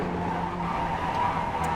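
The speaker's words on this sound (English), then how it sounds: "Big bottom out there, and the car wants to slide." Advanced Mazda race car sliding on the Nordschleife in iRacing, tires skidding in a steady, loud squeal over a droning engine, close and continuous without talk.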